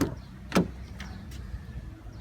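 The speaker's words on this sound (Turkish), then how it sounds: "Ön kapıyı açalım." The front door of an Opel Insignia sedan is opened with one sharp latch click, followed by a couple of softer clicks and thuds. It is close and fairly quiet, with faint background hum and no talking.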